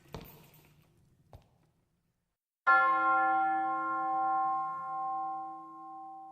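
A single heavy bell tolls once, loud and close, after a few faint thuds, its rich ringing tone decaying slowly over several seconds in otherwise quiet surroundings.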